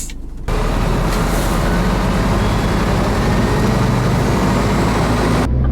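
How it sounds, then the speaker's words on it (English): A Scania R500 next generation truck sets off, its engine and road noise heard as a steady, dense rumble from inside the cab, rising abruptly after a brief quieter moment. "Now, setting off in the Scania R500 next generation."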